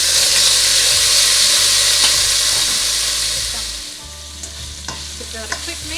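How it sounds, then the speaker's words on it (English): Onions frying in a pan for a calabash squash dish with shrimp and lamb, loud hissing sizzle that gradually softens as they are stirred, followed by scattered scraping clicks of a utensil, close up, no talking. "Now we're going to add in our onions."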